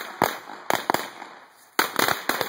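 Firecrackers exploding outdoors: several sharp, loud bangs in quick clusters, some in rapid pairs, separated by short quiet gaps.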